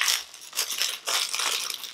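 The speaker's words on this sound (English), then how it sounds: "the bag is so annoying. I hate bags that are like really loud and obnoxious." A loud crinkly plastic bag holding a brush is opened, giving sharp rustling, crunching crackles in quick uneven bursts, close up, with no talking.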